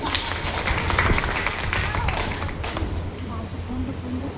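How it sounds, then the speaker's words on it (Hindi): Loud, sustained applause from an audience at a poetry gathering in Kalyanpur, Kanpur: dense, steady clapping filling the room for several seconds with crowd noise beneath. "एक बार इनके लिए जोरदार तालियां।"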